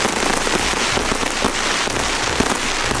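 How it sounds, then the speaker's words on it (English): Dense, continuous crackle and popping from a large Diwali fireworks display, a steady loud barrage of bursts filling the whole stretch with no pause. "decorating buildings with fancy lights and huge firework displays"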